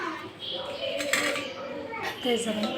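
Oats vada batter with coriander, cumin and spices is mixed by hand in a bowl, giving soft clinks and knocks close by under a person speaking.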